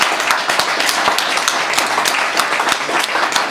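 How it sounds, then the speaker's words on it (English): An audience applauds students after a university presentation, a dense, steady burst of many hands clapping at once, loud and unbroken throughout. "we should give them a round of applause"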